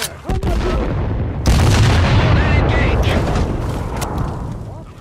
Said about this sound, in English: Explosion on the perimeter!